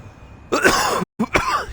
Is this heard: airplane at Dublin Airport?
no